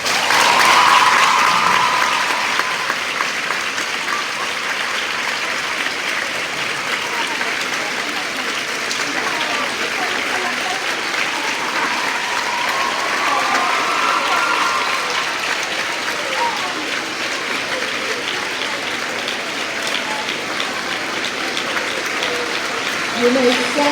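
Sustained applause from an audience standing at a school awards assembly for an Honours Blazer recipient, a dense, steady clapping that fills the hall for the whole stretch.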